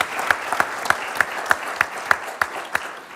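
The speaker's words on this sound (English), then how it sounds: "this is worth an applause as well for the audience" Sparse audience applause at an economic forum, about a dozen separate claps in an even rhythm, fairly close and moderately loud with no talk.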